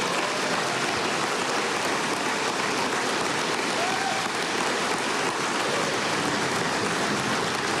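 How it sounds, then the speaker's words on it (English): A crowd gives sustained, dense applause at Syracuse University as Gerry McNamara is announced as the new men's basketball head coach, loud and steady clapping filling the hall throughout. "round of applause"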